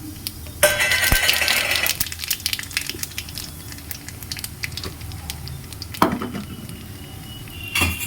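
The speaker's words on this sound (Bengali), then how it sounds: "আর এই যে আদা, জিরে, কালো জিরে ফোড়ন দিলাম" Ginger, cumin and nigella seeds tempering in hot oil in a pan, a burst of sizzling and crackling with clinks of a utensil against the pan and quieter stirring afterward.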